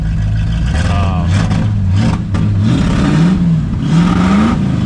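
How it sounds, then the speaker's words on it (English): The engine of a 1972 K5 Blazer with a big block Chevy and fuel injection revs up and down repeatedly, running loud and rough at close range. Voices talk over it in places. "Maybe if I rev it up."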